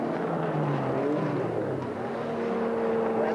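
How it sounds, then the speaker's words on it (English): A BMW 635 CSI rallycross car races at a European Rallycross Championship event, its engine a steady loud drone with shifting tones throughout, no pause in the noise. "Jean-Baptiste Point is driving an exclusive BMW 635 CSI. It's exclusively for Rallycross"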